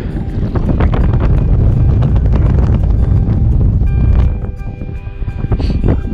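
Heavy wind buffets the microphone in loud, continuous low roaring gusts on the Causse Méjean, easing slightly near the end, with faint water and boat sounds beneath.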